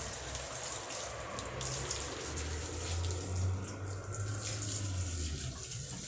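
Water is poured onto a dirty, muddy sound book on an indoor floor, making a steady splashing, trickling rush like a running tap. It stays continuous and moderately loud for several seconds, alone and without talk.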